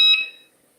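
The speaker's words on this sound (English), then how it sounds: "The blinker's on. Okay, that's what the beeping is." A single sharp electronic beep from a car's turn signal blinker rings out loud and close, then fades quickly into silence.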